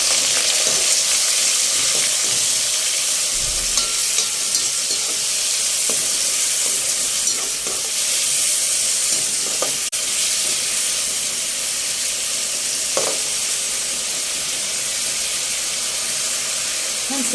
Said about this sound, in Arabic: هنسيبها بقى تحمر كده شويه، ما تحرقهاش يعني، تشوحيها بس كده